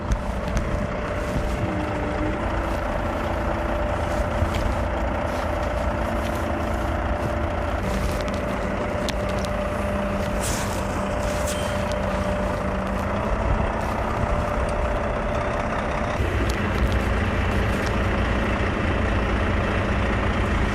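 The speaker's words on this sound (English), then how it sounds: "These trucks are unloading wood chips coming from around 100 kilometers around Växjö" Trucks unload wood chips at a biomass energy plant near Växjö, a steady loud engine drone and mechanical hum with shifting tonal whines and scattered clatter running throughout.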